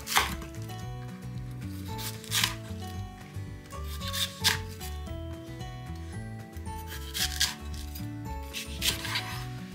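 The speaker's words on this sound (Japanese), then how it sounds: "白いところ、先ほどと同じようにそぎ切りにしていきます" A knife slices napa cabbage on a cutting board, the white stems cut at an angle for a hot pot. A few sharp, scattered cuts sound under steady, prominent background music.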